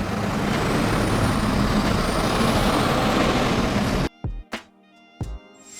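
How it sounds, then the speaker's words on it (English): A police water cannon truck's engine runs loudly with a hiss of air, then cuts to short sharp bursts of air brake release and pneumatic puffs. "This is a police water cannon truck, a truck equipped with a high-pressure water cannon to disperse crowds and extinguish small fires."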